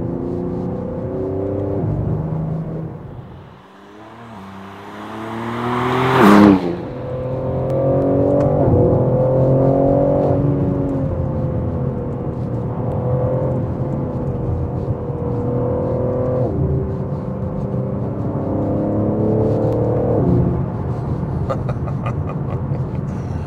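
A BMW M3 Competition xDrive engine runs steadily close by, with a brief sharp rev midway, then settles into a smooth continuous drone with slight pitch shifts.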